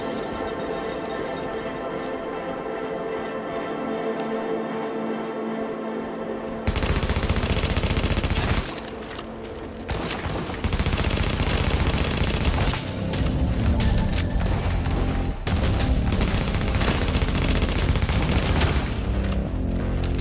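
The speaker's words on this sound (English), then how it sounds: "Nope, that's my sniper rifle." Heavy gunfire from Tom Clancy's The Division, a sniper rifle among rapid bursts and shots, loud and continuous after a quieter opening stretch with ambient game sound.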